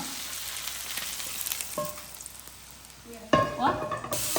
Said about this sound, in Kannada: ಈಗ ನೀರುಳ್ಳಿ ಸ್ವಲ್ಪ ಚೆನ್ನಾಗಿ ಫ್ರೈ ಆಗಲಿ.